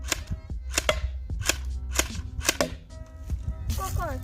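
Airsoft guns fire at targets in a run of about six sharp, evenly spaced snapping shots, each with a short metallic ring, as voices talk in the background.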